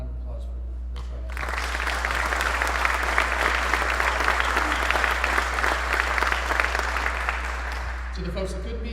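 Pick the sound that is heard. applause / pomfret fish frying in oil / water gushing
applause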